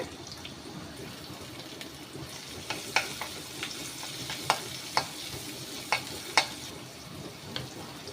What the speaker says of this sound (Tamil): எண்ணெய் நல்லா காஞ்ச உடனே ஜீரகம் ஆட் பண்ணிக்கோங்க நல்லா புரிஞ்ச உடனே ஆறு பூண்டு இப்படி பொடிசாக கட் பண்ணி ஆட் பண்ணிக்கோங்க